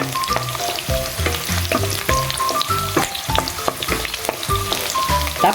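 Onions frying in a pan as the base for Bicol Express, a steady close sizzle with stirring and scraping clatter running throughout, no voices.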